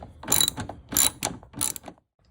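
A ratchet on extensions turns a 7 mm bolt holding a Buick Regal headlight unit, giving three close, loud bursts of rapid clicking with brief pauses between them before going quiet.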